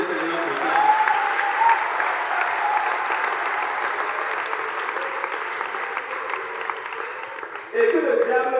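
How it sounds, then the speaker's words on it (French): A church congregation claps continuously and loudly, with a voice sounding over the applause and a brief swell near the end. "Est-ce que tu peux applaudir le Seigneur pour ça?"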